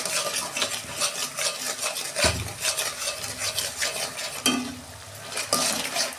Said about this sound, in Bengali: আমি 2 মিনিট একটু কষাবো মশলাটা